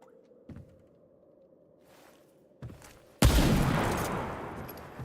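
Sniper rifle fire in the video game Remnant: From the Ashes: faint thumps come early, then one loud blast near the middle that rolls into a long, bright, noisy roar and decays slowly.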